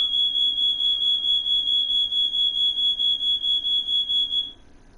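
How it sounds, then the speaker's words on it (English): A smoke or fire alarm shrills loud and steady in a pulsing high beep for about four and a half seconds, then cuts off, over faint background noise during a snooker match broadcast. "Nice fire alarm, dude."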